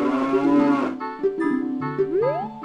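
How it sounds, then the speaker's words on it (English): Cows in a stable in Ocarina of Time give several loud, close moos one after another, each a drawn-out low call with a rising tail at the end. "Stables. Okay, that's good. There are cows here."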